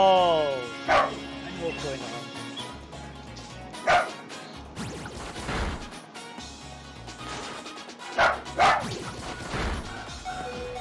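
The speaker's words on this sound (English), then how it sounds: "The dogs are barking." Dog barks from a Pokémon Sword game come in several sharp bursts at irregular intervals over game music and sound effects, with people talking over it.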